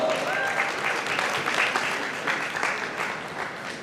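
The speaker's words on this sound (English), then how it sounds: "Please welcome them with a round of applause" An audience applauds to welcome a panel at a Social Media Week Lagos conversation event, a dense, steady wash of clapping that runs the whole time, fairly loud and close with no clear talk over it.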